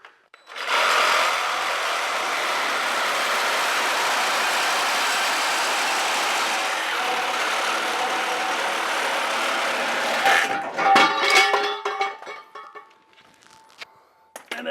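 A power tool cuts through the metal cat-back exhaust pipe of a Ford F-150. The harsh, loud grinding runs steadily for about ten seconds, then stops, leaving clanks and handling noises.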